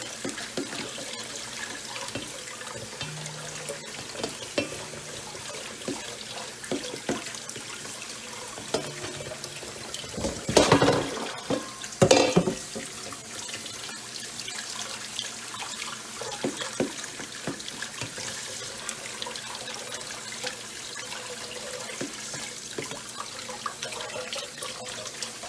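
Beef tripe being rinsed under a running tap for menudo, a steady low wash of water over a long stretch with a few louder splashing bursts in the middle, no talk.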